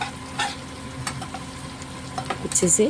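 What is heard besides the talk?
spices frying in oil in a pan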